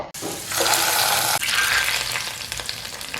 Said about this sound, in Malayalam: ഫൈനലി ഇതിലേക്ക് അല്പം കാഷ്യൂസും റൈസിൻസും നെയ്യിൽ വറുത്ത് ചേർത്ത് കൊടുക്കുന്നുണ്ട്